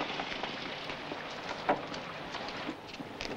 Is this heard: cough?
no